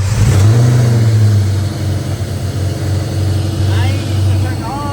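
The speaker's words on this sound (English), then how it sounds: "The car instantly turned on, which I'm really happy about." A Cobra with a newly installed alternator running just after start-up, with a steady low engine rumble and a brief rev near the start, and people talking over it.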